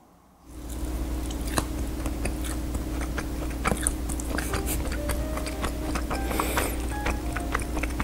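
Fried cottage cheese drizzled with sweet syrup being bitten and chewed up close, giving soft wet squishy mastication sounds with a few small crunches, steady and near, with no talking.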